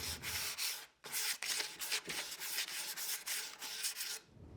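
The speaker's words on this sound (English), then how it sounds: "A quick sanding on those edges" Sandpaper rubbing quickly back and forth over the edges of a plywood shelf, a close, steady rasping in short strokes with brief pauses, no voices.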